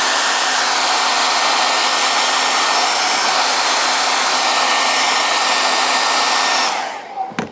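A hair dryer blows steadily and loudly on a shaped sinamay hat piece, a constant close whoosh that cuts off abruptly near the end, followed by a few faint handling sounds.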